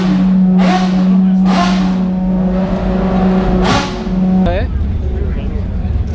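Someone's race car at the Goodwood Festival of Speed, its engine blipped in three sharp, loud revs over a steady idle before cutting off abruptly, with people talking nearby.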